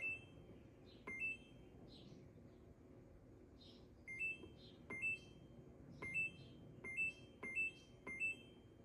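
An egg incubator's electronic alarm chirps in short, high double beeps repeated at irregular intervals, fairly quiet, over a faint background hum.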